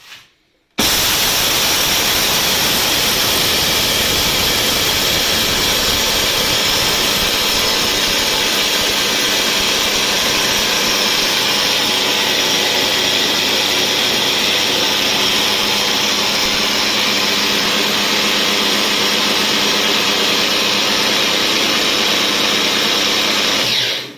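A homemade crusher built from an angle grinder runs continuously at high speed, giving a loud, steady, hissing whine with a rough grinding texture that begins abruptly and stays constant until it stops.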